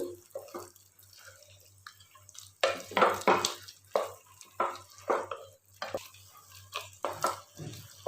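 Water splashes and sloshes as it is poured and stirred into poda pitha batter in a bowl, with irregular wet strokes close up that build in the second half.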